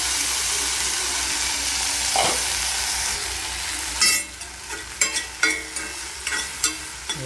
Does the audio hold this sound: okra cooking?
yes